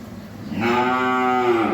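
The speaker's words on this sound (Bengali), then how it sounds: "এই হলো আজকের সাত নাম্বার একটা হলিস্টেন ফ্রিজিয়ান বকনা বাছুর" A Holstein Friesian heifer calf gives one drawn-out, full-throated moo at close range, swelling after a short quiet start and holding steady to the end, with no talking.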